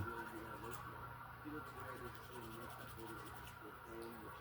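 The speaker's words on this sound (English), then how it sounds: "I'm just buffing my nails" A nail file buffs fingernails in steady, soft scratchy rubbing strokes, close and quiet, with a low background hum throughout.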